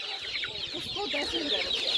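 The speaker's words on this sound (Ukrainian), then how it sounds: "Є дубові курчатки ось такі" Chicks and chickens clucking and peeping in a busy cluster at an animal market in Khryplyn, steady and moderately close, with faint voices mixed in.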